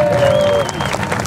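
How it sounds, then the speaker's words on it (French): A crowd claps at a bike show gathering in Vendays-Montalivet, a brief burst of applause with a sustained tone and voices mixed in, close and fairly loud. "on peut les applaudir"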